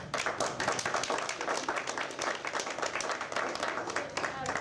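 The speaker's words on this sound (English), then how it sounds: "if we could get one more round of applause" Attendees at a historic preservation day gathering give a round of applause, the dense, steady clapping heard fairly close and lasting several seconds.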